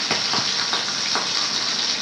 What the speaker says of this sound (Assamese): মাছখিনি ভাজি দিবি নেকি?